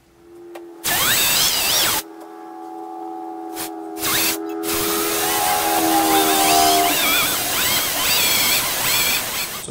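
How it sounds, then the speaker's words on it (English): Power drill with a bit boring a mortise in wood for a bridge table, loud short bursts of whirring that start and stop, then a longer sustained run of drilling. "This will align the bit and get down there as far as I can and get some more depth on the mortise."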